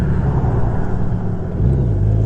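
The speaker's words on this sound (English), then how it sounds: "right here is the entrance where this car is coming out of" A car pulls out of a building entrance with a steady low engine rumble, fairly loud and close, rising slightly near the end as it moves off, with no voices.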